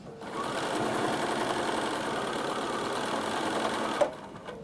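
A sewing machine stitches across the end of a fabric tissue box cover in one steady, close whirring run of about four seconds, then stops with a small clack.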